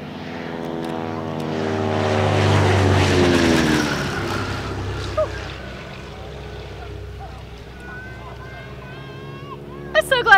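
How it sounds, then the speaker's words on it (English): A propeller airplane makes a fast low flyby at an airshow, its engine drone swelling loud and near, then fading away as spectators talk over it. "Low flyby."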